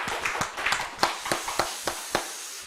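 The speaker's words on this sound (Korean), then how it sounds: "하나님께 영광의 박수 올려드리겠습니다" A congregation claps together during a Friday late-night prayer and worship service in a church, giving about ten sharp, near hand claps in an uneven rhythm with a faint murmur underneath.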